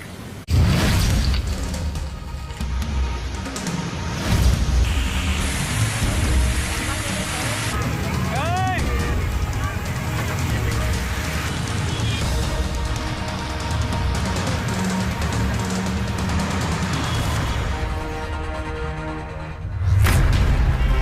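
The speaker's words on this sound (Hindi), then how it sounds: "इस बार मध्य सितंबर के बाद भी भारत में तेज बरसात हो रही है।" Heavy monsoon rain falls across flooded Indian states in September 2021, a dense, steady roar of downpour that fills the whole stretch, with a brief swoosh partway through and a surge at the end.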